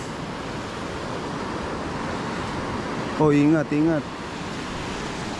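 Ocean waves wash continuously onto a shore, a steady broadband surf roar with some wind buffeting the microphone; a voice calls out briefly over the sound near the end.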